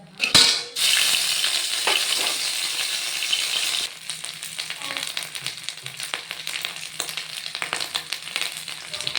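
Ginger paste hits hot oil in a pan while cooking cabbage, setting off a loud burst of sizzling that settles into a steady crackling fry, with faint stirring scrapes continuing underneath.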